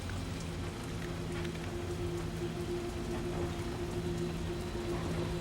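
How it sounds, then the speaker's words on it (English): Heavy rain pours down steadily in a dense, constant hiss, with a low engine hum underneath and no voices. "It's starting to rain pretty hard."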